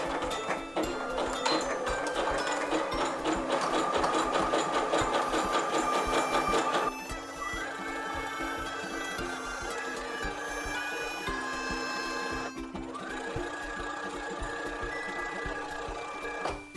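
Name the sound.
sewing machine stitching fabric for a face mask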